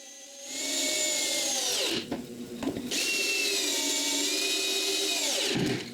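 A power drill drives a 6-inch screw into a wooden support, whining loudly and close in one long run with a brief stutter partway through, then winding down at the end.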